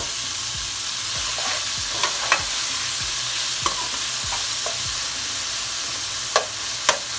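Tomatoes frying in a hot pan with garlic for a guar phali (cluster bean) curry, a steady loud sizzle throughout with repeated clacks and scrapes from stirring, no talking.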